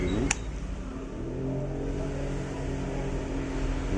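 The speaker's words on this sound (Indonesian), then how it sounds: "Mohon maaf suaranya bising karena lokasi saya di pinggir jalan raya," Continuous low engine hum from motorbikes and traffic on a busy main road just outside, with a brief sharp click near the start.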